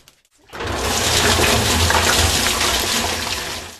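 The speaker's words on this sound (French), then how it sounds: "Maintenant, nous allons verser l'eau." Water poured into a pot that will boil beneath a substrate barrier for oyster mushroom cultivation. After half a second of quiet, a loud, steady gushing pour runs until the end.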